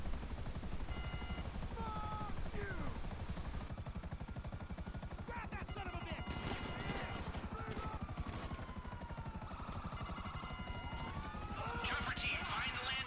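A helicopter flies in GTA V Online, its rotor thumping steadily the whole time, mixed with bursts that sound like gunfire and other game sounds.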